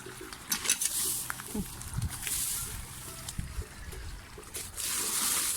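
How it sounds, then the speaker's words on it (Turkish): Water flows and trickles steadily in a village garden, a close, continuous splashing rush with brief patters and small knocks over it. "Şöyle gelsin su. Ne güzel akıyor değil mi? Şırıl şırıl."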